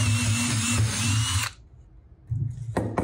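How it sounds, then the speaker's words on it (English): A cordless drill with a dull bit bores holes through wood, a loud steady whine for about a second and a half, a pause, then a short rising spin-up again near the end, heard close with no talk. "I could pre-drill a smaller hole so I don't drift this drill bit is a little dull"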